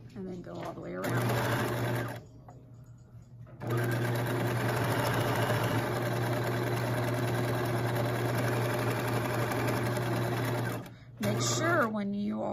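A sewing machine runs basting gather stitches on a romper, a steady close mechanical whir in two long runs separated by a short pause, stopping briefly again near the end.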